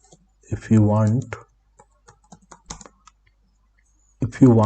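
A computer keyboard clatters in short, uneven bursts of clicks during a Django web-development session, the keystrokes sitting in a gap between stretches of a man's close speech.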